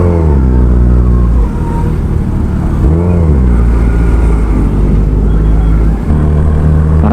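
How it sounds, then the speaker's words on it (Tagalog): Heavy traffic, including tricycles, on a busy road, with engines revving and droning close by, pitch rising and falling as vehicles accelerate and pass, loud and continuous. "Parang ang dami na masyado sasakyan dito"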